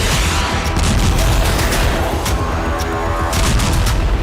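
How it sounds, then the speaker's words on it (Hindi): Artillery shelling and explosions striking the Ukrainian city of Kherson: a loud, continuous barrage of dense rumbling booms and overlapping blasts with no pauses. "खेरसौन पर भीषण प्रहार जारी है।"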